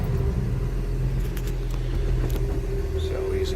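A 1967 Ford F-100 pickup with a stock engine and 4-speed runs at a steady idle, a loud, close, even low rumble that holds without a break; faint voices are heard underneath.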